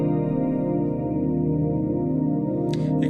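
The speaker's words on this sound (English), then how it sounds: "this is a stereo delay, the FX8 XL, and then the reverb, just to add extra dimension" Lush polyphonic pads from a Eurorack modular synth fed through an FX8 XL stereo delay and reverb, a sustained harmonic chord drone holding steady, with a brief bright burst near the end.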